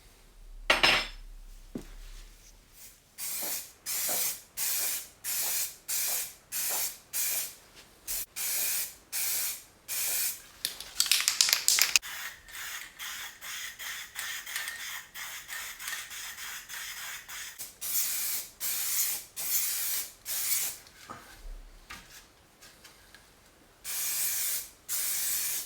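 Repeated short bursts of aerosol spray hiss from a spray can painting motorcycle mudguards for a BMW R80 custom build, with a few light clinks and brief pauses between passes.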